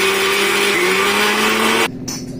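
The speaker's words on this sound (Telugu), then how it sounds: "అన్నీ మెత్తగా గ్రైండ్ చేసుకోవాలి." A mixer grinder runs at full speed, grinding roasted cumin, urad dal and chana dal with a steady, loud motor whine. The pitch dips slightly partway through, then the motor cuts off abruptly.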